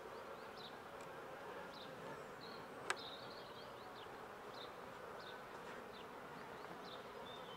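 A soft, steady hum of honeybees buzzing nearby, with a few individual bees droning past and one brief sharp click.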